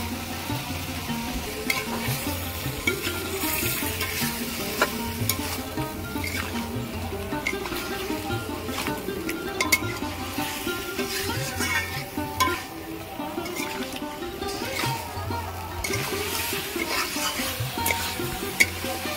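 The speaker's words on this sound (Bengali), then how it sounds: "এবার আমি ভাত সিদ্ধ করে নিয়েছি, আলুগুলো দিয়ে দেবো, দিয়ে ভালো করে কষিয়ে নেব" Potatoes sautéed and stirred into a spiced gravy for aloo kosha, part of a Bengali festive vegetarian thali: continuous sizzling with repeated scraping and stirring strokes throughout, close and even.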